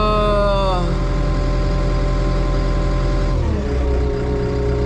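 A high-end agricultural bulldozer engine runs close by, its low rumble settling from higher revs down to a steady idle partway through, continuous and loud.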